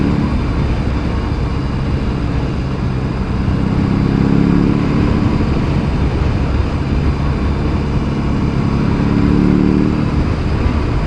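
A BMW R18 Roctane motorcycle with its big 1800 cc boxer engine pulls steadily in fourth gear at about 45, a loud, continuous low rumble mixed with wind roar, with no talking.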